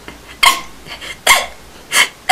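Imitated hiccuping cries from a person, three sharp sobbing bursts spaced about a second apart with faint breathy sounds between them, close and fairly loud.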